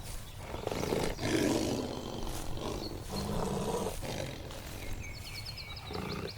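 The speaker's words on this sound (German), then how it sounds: "6 männliche Löwen, riesig, muskulös und kampferprobt" Six big male lions on the African savanna roar in deep, rumbling bursts that come one after another, loud and close, with grunting breaths between them and faint bird chirps near the end.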